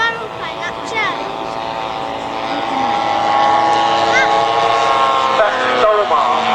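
Radio-controlled model Zero aircraft powered by a Solomar 70 engine flies at an outdoor model air show, its loud buzzing drone rising and falling in pitch as it passes, with voices over it.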